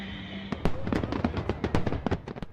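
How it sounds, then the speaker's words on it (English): New Year's fireworks over the London Eye in London crackle and pop in a rapid, irregular series of bangs, heard at a distance and fairly faint. "Big Ben rang in 2015 in London, setting off a pyrotechnic eruption over the London Eye."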